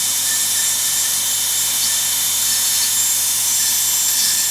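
A dental bur drills an access opening in a mandibular molar with a steady, loud, high-pitched whine that holds unbroken throughout, with no talking.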